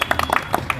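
A small group claps for exam toppers in a group discussion class, producing scattered, uneven claps that are fairly close but modest in volume, with no talking.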